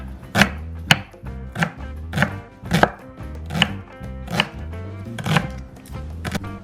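A knife chopping an onion on a board, about a dozen sharp, fairly regular thunks close up, with no talking.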